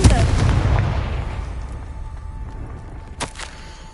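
A Confringo blasting spell explodes in Hogwarts Legacy, one loud low boom at the start that rolls off into a decaying rumble, with a sharp smaller pop near the end.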